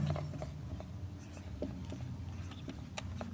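A pen scratches across paper while a physics derivation is written out, giving soft, close strokes in an irregular rhythm. A voice speaks quietly over the writing.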